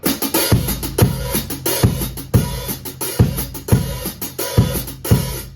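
A drum kit repeats a steady looping ostinato groove, kick and snare hits recurring in an even cycle over a continuous wash of cymbals, played alone and fairly loud.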